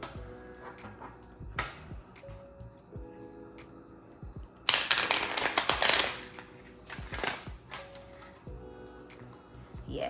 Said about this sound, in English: So I'll do one more riffle shuffle.